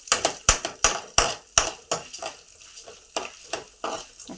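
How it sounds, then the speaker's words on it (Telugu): Chana dal and urad dal frying in oil for a karam podi are stirred in a pan, with a quick series of sharp metallic spoon strikes and scrapes over a light background sizzle, loud at first and then more spaced and softer. "పచ్చిపప్పు, మినప్పప్పు ఈ రెండు కూడా చక్కగా వేయించుకోవాలి"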